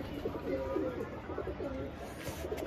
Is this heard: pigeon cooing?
yes